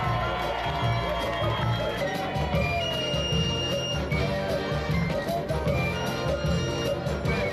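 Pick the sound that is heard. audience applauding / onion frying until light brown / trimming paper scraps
audience applauding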